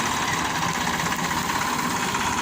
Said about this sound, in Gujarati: આપણું ટ્રેક્ટર હાલે છે, જુઓ